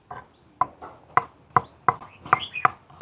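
Shallots chopped with a knife on a board in a home kitchen, eight crisp evenly spaced knife strikes in steady rhythm, close and clear, with no talking.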